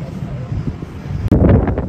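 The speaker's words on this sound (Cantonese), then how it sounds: "呢度勁大風啊！" Strong wind at Gaomei Wetlands in Taichung buffets the microphone with a low, continuous rumble, then a sudden heavier gust hits hard near the end.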